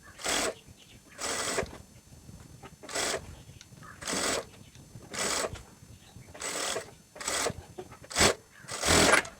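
Sewing machine stitching fabric for a maxi dress in a series of short, quick stitching bursts, roughly eight or nine, separated by brief quiet gaps.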